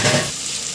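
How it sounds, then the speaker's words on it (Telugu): A brief, loud sizzle of ground masala paste frying in hot oil for goat trotters soup, crackling up close and fading slightly. "ఆయిల్ సపరేట్ అయ్యేంత వరకు మసాలా బాగా డ్రై అవ్వాలి"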